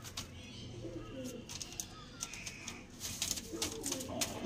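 Pigeons of old bloodlines coo softly in a loft, low murmuring calls repeating faintly amid light rustles and small background sounds.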